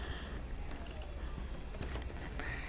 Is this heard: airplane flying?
no